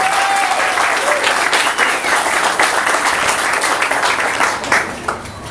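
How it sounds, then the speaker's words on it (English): An audience applauds the kids at a community gathering, a dense, sustained round of clapping that stays loud and even throughout, with a few brief voices faintly mixed in. "Let's give a round of applause for the kids"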